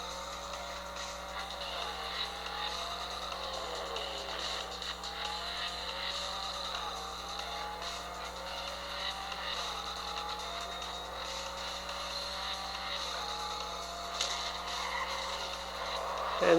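Engines whine and shift through gears with occasional tire squeal as cars race in the Real Racing 3 video game on a Samsung Galaxy Note 8.0 tablet, a steady moderately quiet stream of game audio without talk.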